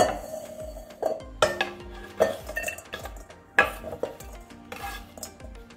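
Metal pot handled in a home kitchen while dates are prepared, a series of sharp clanks and clinks with resonant ringing, about seven distinct hits spaced irregularly, close and fairly quiet, no talk.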